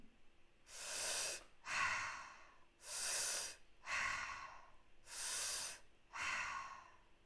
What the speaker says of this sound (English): this is the way I do the mouth breathing to get the most air in